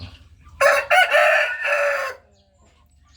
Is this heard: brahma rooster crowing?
yes